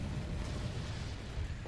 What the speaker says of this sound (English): The sniper took out a nuke, and the drunk nuke took it personally.